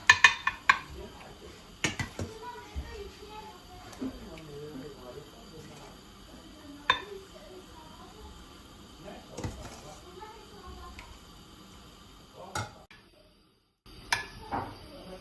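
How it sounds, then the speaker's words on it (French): Cooked tomato sauce spooned over sardines in a baking dish: scattered clinks and scrapes of a spoon against the dish, a few sharp knocks, with a voice talking throughout. "Je couvre toutes mes sardines avec la sauce que j'avais préparée."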